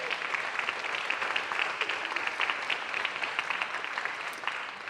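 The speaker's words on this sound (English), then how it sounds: "Round of applause, that's the last one." An audience at a conference keynote session applauds its sponsors, a dense, steady wash of clapping from many hands at a moderate distance that lasts about five seconds with no talking over it.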